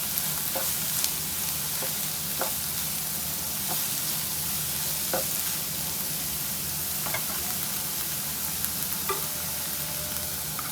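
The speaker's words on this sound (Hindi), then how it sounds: "सब्जियों को ज़्यादा फ्राई नहीं करेंगे, बस 1 से 2 मिनट तक हम हल्का इसको फ्राई करेंगे।" Mixed vegetables with capsicum (shimla mirch) fry lightly in a pan, giving a steady soft sizzle with occasional stirring clicks and scrapes throughout, close and continuous with no talk.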